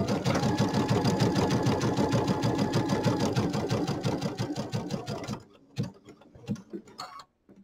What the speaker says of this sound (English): I'm going to sew right up to that corner with the pin in there.